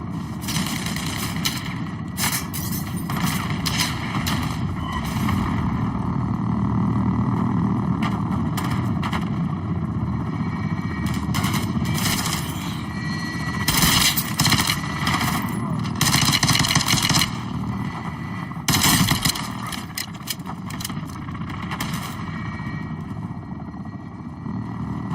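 Rapid automatic gunfire bursts from the video game Call of Duty Modern Warfare 2, repeated over a constant droning engine or rotor hum, loud and dense across the whole stretch with no speech.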